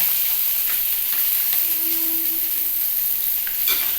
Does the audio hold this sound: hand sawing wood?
no